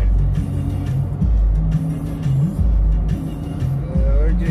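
A car drives along steadily, its engine droning loud and close with repeated shifts in pitch as it speeds up and eases off, the cabin rumble continuous.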